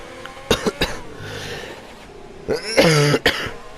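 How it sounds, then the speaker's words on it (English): A man coughs several times during a race commentary, sharp hacking bursts in two clusters, close and fairly loud, with throat noise between them. "I'm just getting all the coughs out my system towards the end of the race."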